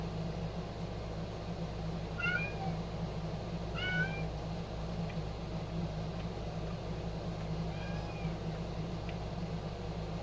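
A house cat meows a few times in short rising calls against a steady low hum, fairly close, with no talking.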